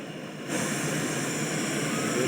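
A Master Torch blowtorch ignites with a sudden jump to a loud, steady roaring flame that holds close and constant to the end, with no talking.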